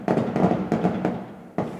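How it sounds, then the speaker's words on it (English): Rapid bursts of fireworks popping outside a window, several loud cracks in quick succession followed by a brief pause and another blast. "Sound like some awesome fireworks though?"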